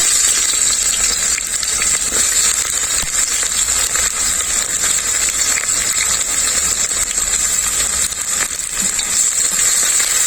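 Onions hit hot mustard oil in a pressure cooker, producing a steady, bright sizzle that carries on evenly throughout, close and fairly loud with no talking.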